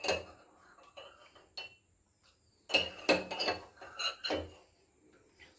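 Metal spoon stirring a mixture in a bowl, giving faint scattered clinks and scrapes, mostly quiet with a short busier burst of clatter in the middle.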